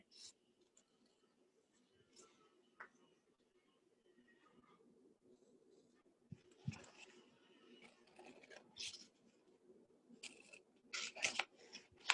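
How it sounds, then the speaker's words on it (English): Quiet snipping of non-fabric scissors cutting through stiff appliqué stabilizer, a series of short crisp cuts growing busier toward the end, close by with faint background noise. "I'm gonna use my non-fabric scissors"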